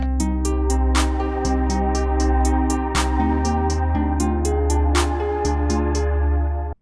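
A dark melodic trap beat built in Maschine combines a deep sustained bass with a plucked harp pattern and crisp rapid hi-hats, all playing loud and steady in a repeating loop that cuts off at the end, with no voices.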